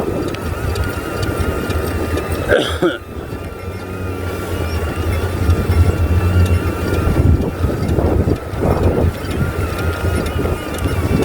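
Gusty wind buffets a small DJI Neo drone in flight outdoors, a loud rumbling wind roar over the faint motor whine, surging and dropping unevenly, with one sharp knock near the start.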